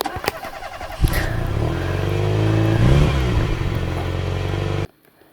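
A vehicle engine in the Melon Playground video game starts up with a clunk, then revs and drones steadily with a rising, wavering pitch before cutting off abruptly into near silence.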